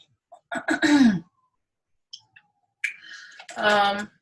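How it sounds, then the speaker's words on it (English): A person clears their throat several times, short rough rasps close to the microphone, separated by brief silences. "why am I all of a sudden needing to clear my throat?"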